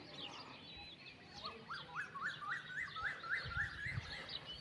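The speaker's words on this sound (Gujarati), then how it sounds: "ચકલીઓ ને કોયલ ને આ પક્ષીઓ જુદા જુદા બોલે રાખે છે" Sparrows, koels and other birds call at evening near a river in the Gujarat countryside, a faint, quick run of repeated chirps rising and falling in a steady series, with softer calls scattered around it.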